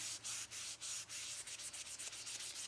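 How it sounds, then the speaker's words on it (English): A tissue is rubbed firmly over a chalk pastel drawing, giving a soft, close scratchy swishing in quick repeated strokes, quiet and with no voices. "take a tissue and rub it real good"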